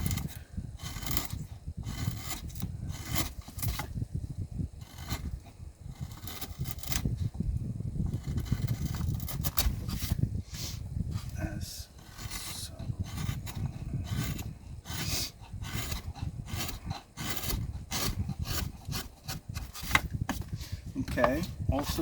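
A carving tool cuts a swooping line through a wooden dragon rider sculpture near the armor and shoulder, making close, steady scraping and rasping strokes that repeat for the whole stretch.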